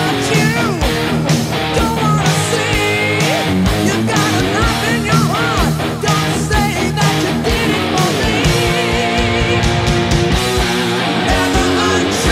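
Electric guitar plays the pre-chorus riff of a song over a dense full-band backing with bending vocal-like lines, loud and continuous throughout.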